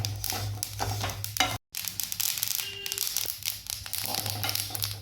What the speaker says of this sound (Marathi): तुम्हाला आवाज येत असेल चटचट तीळ उडत आहे